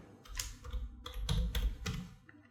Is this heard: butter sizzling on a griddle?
no